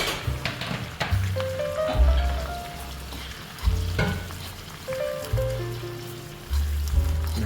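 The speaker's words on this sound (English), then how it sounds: "I'm just frying up the seasonings" Scallion, bell pepper, tomato, scotch bonnet pepper and garlic frying in a pot for brown stew fish, a steady close sizzle broken by repeated stirring scrapes and clanks, while a low hum runs underneath.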